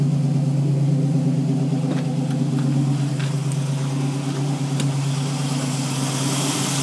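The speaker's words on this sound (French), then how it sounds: "un moteur qui a bien démarré et puis finalement qui tourne très bien" A 1968 Ford Mustang Fastback with an automatic transmission idles smoothly and evenly, a close, steady low engine rumble with faint clicks and no speech.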